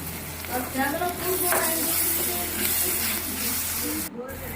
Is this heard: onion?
yes